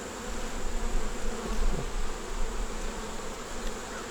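Honeybees hum steadily in a dense, even buzz around an open nuc hive during an inspection, with no voices.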